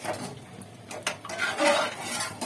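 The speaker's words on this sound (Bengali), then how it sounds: "তার আগে ডালটাকে একটু নাড়িয়ে দিলাম" Lentil dal is stirred in a pot, a short burst of close scraping and soft clinks of a utensil against metal.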